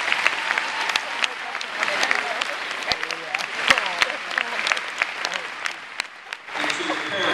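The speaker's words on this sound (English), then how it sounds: "let's one more time give this a quick round of applause" A crowd applauds school staff at a ceremony, dense clapping with sharp individual claps standing out, sustained throughout with a slight dip near the end and occasional voices mixed in.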